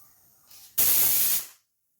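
A pressure cooker with its lid closed lets out steam, a brief soft hiss that jumps to a loud, harsh burst for under a second before cutting off into silence.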